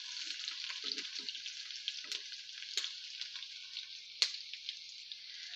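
Chopped onions fry in hot oil for a tadka for moong and masoor dal, a soft, continuous sizzle with occasional louder pops and crackles, and no voices.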